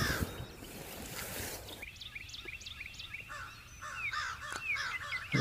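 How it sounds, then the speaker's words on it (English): Crows and other birds calling just outside a poncho survival shelter in the woods, a series of repeated harsh caws and chirps at moderate distance over faint rustling, with no talking. "I don't think the birds know I'm here."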